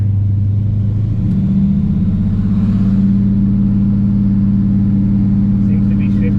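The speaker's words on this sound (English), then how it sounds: "Seems to be shifting into gear." A 1987 Chevrolet Monte Carlo SS engine rumbles steadily up close, its revs rising slightly as it shifts into gear, with a low continuous drone throughout and no clear speech.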